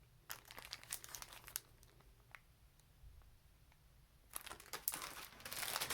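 Vintage-patterned craft paper crinkles and rustles as it is handled, with soft crumpling bursts at the start and again more loudly near the end, otherwise quiet.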